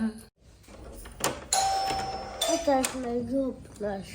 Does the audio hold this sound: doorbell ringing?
yes